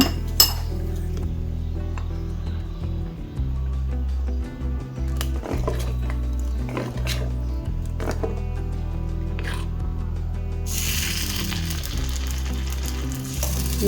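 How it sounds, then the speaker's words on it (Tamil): Batter for crispy kara kuzhi paniyaram goes into a nonstick paniyaram pan, with clinks of a spoon against metal, a low steady hum underneath and a soft sizzle swelling near the end; no one talks. "அடுத்த செட்டு ஊற்றிக்கலாங்க."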